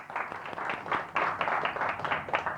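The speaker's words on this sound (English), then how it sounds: "round of applause for bullet train" An audience applauds for a bullet train pick during a financial freedom class, a steady wash of many clapping hands lasting a couple of seconds without talk.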